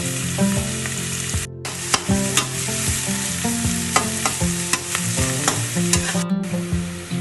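Onions sautéing in a pan toward light brown, a steady loud sizzle broken by repeated scraping stirs of a spatula, with no voices.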